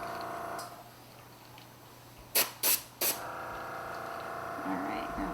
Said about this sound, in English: So I'm just going around and separating them out and airbrushing them, giving them a light coating.